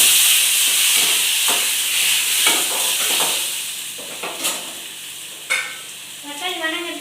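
Tomatoes dropped into hot oil with cumin set off a loud, steady sizzle and hiss, with a few scraping stirs and clinks as the frying settles toward the end.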